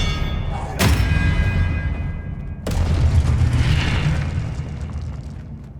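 An Expelliarmus spell cast in Hogwarts Legacy, two sharp booming impacts a couple of seconds apart, each followed by a rumbling rolling tail over low background game noise.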